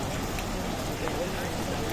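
Steady rain hisses across muddy ground in a dense, even wash of sound, close and fairly loud, with no distinct voices standing out.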